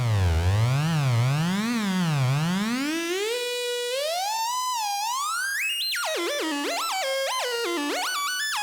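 Wogglebug modular synth output, a smooth tone gliding in zigzag sweeps that climb steadily in pitch, then jumps into stepped, slewed notes near the end; continuous and loud, with no talk.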